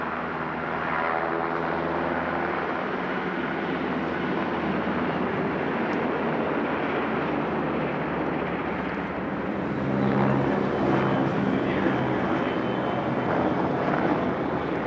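A military helicopter at an RAAF 70th anniversary airshow roars steadily as it stalls and pulls out into rolls, a loud rotor and engine drone from a moderate distance, rising slightly toward the end.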